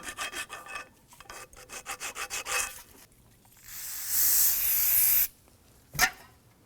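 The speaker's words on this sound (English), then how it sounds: "Sometimes use that flat file to go ahead and clean up some of that garbage that's in there." A flat file scrapes rust and debris from the brake hub of a 2003-2014 Volvo XC90. It gives a series of quick rhythmic rasping strokes, then a longer steady hissing scrape and a final sharp clank, close and fairly loud.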